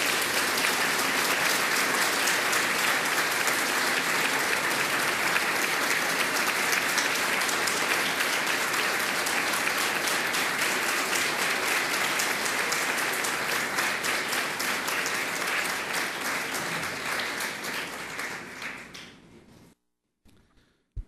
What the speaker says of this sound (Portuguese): E eu queria que você aplaudisse ao Senhor neste momento.